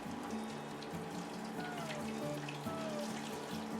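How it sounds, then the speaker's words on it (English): Soft, steady sizzling and crackling of small balls of food frying in hot oil, a few at a time, faint and continuous with a low hum underneath. "you can see they're really frying up really good here right now"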